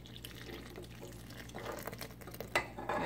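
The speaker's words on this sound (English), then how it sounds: "So now we are going to pour in our yeast and honey mixture" A yeast and honey mixture pours into a bowl in a short, soft liquid trickle with light splashing and stirring-like swishes, close and fairly quiet, ending with a small splash.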